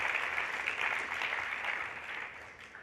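Conference attendees at a tech keynote clap together in a dense, continuous burst that stays even and fades slightly near the end, with no speech over it.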